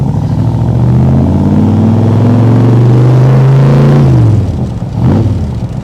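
A 2020 Backdraft Cobra Iconic Edition engine idles loud and steady while warming up, rising briefly in pitch before settling lower, then blipping again near the end, close and continuous with no talking.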